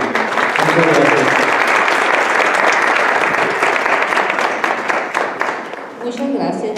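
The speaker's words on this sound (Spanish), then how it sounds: "les pido un aplauso para nuestra cronista municipal Carmelita." Municipal audience applauds after a local history talk by the town chronicler, a dense, steady wash of clapping that fills the room, with some voices mixed in and the applause thinning slightly near the end.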